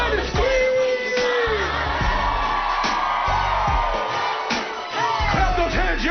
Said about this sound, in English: Everybody scream.